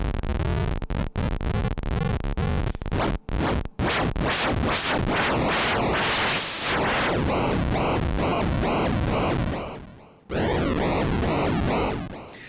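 A loud, continuous drone from a Tau Hydrae mono synth with a bright, noisy texture that wobbles in steady repeating sweeps from a sine-wave LFO, cutting out briefly near the end.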